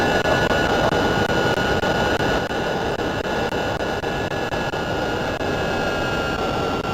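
Jet engines of a Lufthansa A340-300 at takeoff in Flight Simulator 5.1 give a steady, loud, broad roar with a faint high whine held throughout, no voices.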